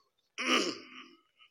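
A single harsh throat-clearing cough up close, a rough burst lasting under a second, followed by a faint short catch of breath.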